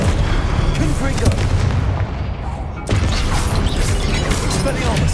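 Confringo spell explosions from Hogwarts Legacy combat, with loud, dense booms and crashing blasts over busy mechanical clatter, broken by a brief drop around the midpoint, plus some spoken voice.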